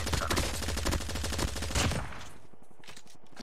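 An AK-117 rifle fires in a Call of Duty Mobile battle royale match: a loud, dense run of rapid automatic shots for about two seconds, then quieter, sparser fire and a final sharp burst.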